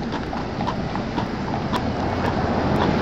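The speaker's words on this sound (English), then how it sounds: "the horse is just walking down the hill" A New York carriage horse in the park walks downhill pulling its carriage, brakes on. Its hooves clip-clop close by in a steady, even rhythm over low street rumble.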